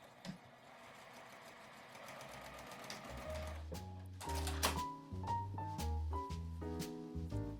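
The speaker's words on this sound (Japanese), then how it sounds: "反対側も端から5センチを縫います。" A sewing machine stitches fabric for a lined folding tissue case, starting slowly then running in quick mechanical bursts of needle clatter, close and fairly quiet with no talk.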